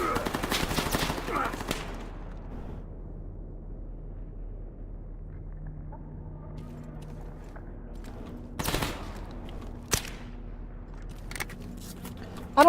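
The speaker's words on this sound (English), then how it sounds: "Gunfire." Video game gunfire, heard as a loud burst of rapid automatic shots at the start that quickly fades into a low rumble, followed later by a few isolated sharp single shots.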